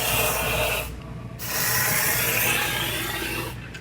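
3M cavity wax is sprayed from an aerosol wand into the frame rail of a Subaru Outback, making a loud, close, breathy hiss. It comes in long bursts with a brief pause between them.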